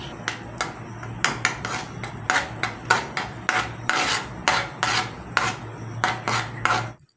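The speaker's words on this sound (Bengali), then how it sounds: "কন্টিনিউ আমরা নাড়াচাড়া করতে থাকবো।" A raw mango candy mixture is stirred in a wok, producing a rhythmic series of loud scraping, clanking strokes against the metal, repeating roughly every half second over a low steady hum.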